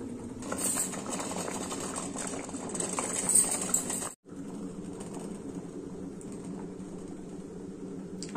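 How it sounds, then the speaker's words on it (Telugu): Water boiling in a pot, a close, steady bubbling and rumbling hiss that runs throughout, briefly dipping silent midway before resuming. "నీళ్ళు కాగుతున్నాయి కదా"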